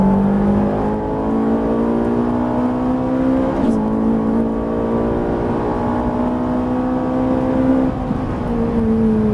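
A Ferrari 458 pulls hard at full throttle around a race circuit, its engine note climbing loud and steady through the gears with a brief shift dip, heard from inside the car while someone talks.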